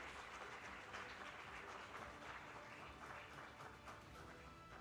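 Conference audience applauding Africa Pension Supervisors Association members as they come onto the stage, a steady, fairly distant wash of clapping throughout.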